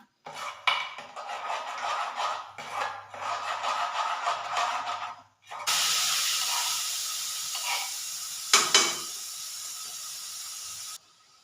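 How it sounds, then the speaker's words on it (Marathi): Ground masala paste hisses and sizzles as it hits hot oil with bay leaf, star anise, cinnamon and pepper, with a steady loud sputtering fry, a spoon clattering against the pan and a quieter stretch of stirring before it. "तेल तापायला ठेवले त्यामध्ये तमालपत्र स्टारफूल दालचिनी आणि मिरं घातलेलं आहे आणि हे वाटण आता त्यामध्ये मी ते फ्राय करणार व्यवस्थित"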